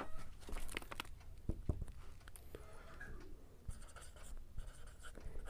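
Steady scratchy writing as a maths solution for a ratio problem is worked out by hand, with short strokes and taps continuing without pause and no voice.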